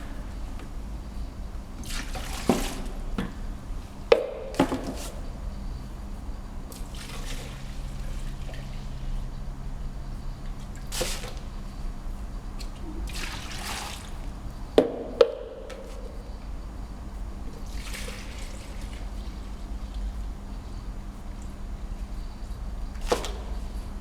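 Keim Concretal dilution liquid is poured from a jug. A faint, steady trickling and splashing runs throughout, broken by several sharp knocks and clunks of the jug, with no one talking.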